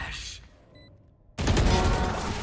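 Bursts of weapon fire in a professional Valorant esports match on the Haven map, a quiet stretch of a few faint tones and then a sudden loud, dense barrage of gunfire filling the second half.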